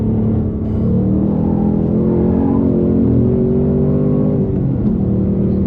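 Ford Mustang Dark Horse driven on track to warm its tires, a loud, steady engine drone heard from inside the car with gently shifting pitch as it holds speed.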